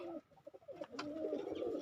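Golden pigeons coo in soft, low, rounded bursts close by, a couple of short calls followed by a longer warbling coo, with no talking.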